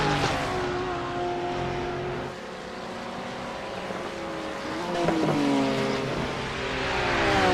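Race cars circulate on track during an endurance race, a continuous loud engine drone with rising and falling tones as cars pass, several engines overlapping at mid distance.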